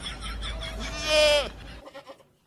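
A goat in a village bleats once, a loud, wavering cry rising over low background noise and then trailing off, followed by a quieter tail.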